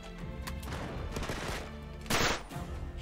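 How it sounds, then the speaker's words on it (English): Shotgun blasts in Uncharted 3: Drake's Deception, a busy run of sharp reports and rattling gunfire with one louder, brighter blast near the end, all close and dense over a game soundscape. "The shotgun sound is satisfying, but the actual impact of it does not look right"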